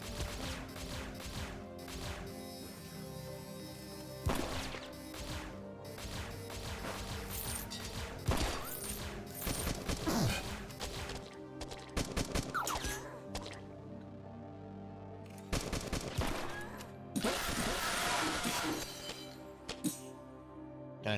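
Gunfire in the video game Beyond Sunset comes as a series of sharp, loud shots in irregular bursts, some single and some clustered, with clinking mechanical sounds and game music between them.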